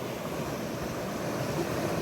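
Water of a mountain stream rushing continuously, a dense broadband roar of flowing water with wind-like hiss, steady and close with no pauses.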